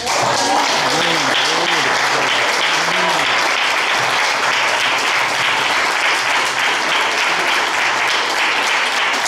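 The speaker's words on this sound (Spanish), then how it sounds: "Aplausos a Jesús, hermano." Loud, sustained applause from a crowd at a church service, steady and dense throughout, with a voice speaking over it at the start.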